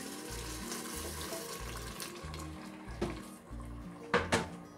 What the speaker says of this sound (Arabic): غادي ندير الماء باش نمرقها